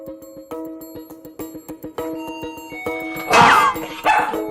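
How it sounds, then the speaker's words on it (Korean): A pet dog at home barks after a doorbell rings, a run of sharp, fairly close barks building into louder, excited yelping and whining near the end. "벨이 울리자 자동적으로 짖는 보리"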